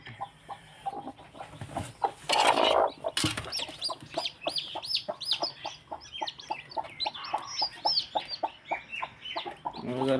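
A hen clucks in a steady, repeated rhythm, with soft high peeping from chicks throughout and a brief burst of rustling noise near the start.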